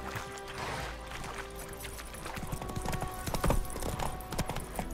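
Horse Roach trotting in The Witcher 3, a brisk regular clip-clop of hooves close by over a low ambient bed, with a brief snort or whinny-like sound near the end.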